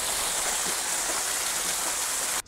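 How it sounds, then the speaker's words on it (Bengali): Himchhari waterfall near Cox's Bazar flows in a steady, broad rushing wash, close and continuous, cutting off abruptly near the end. "এই যে দেখেন ঝর্ণাটা।"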